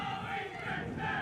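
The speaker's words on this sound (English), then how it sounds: "The chants coming in from the home crowd" Home supporters chant steadily at a women's field hockey match, a sustained crowd roar with rising and falling voices filling the background, no clear single speaker.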